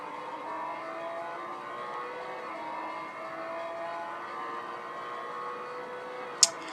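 A McLaren 650S GT3 race car engine at Silverstone Grand Prix in the Real Racing 3 game holds a steady, moderately loud drone with sustained engine tones, ending in one sharp brief click.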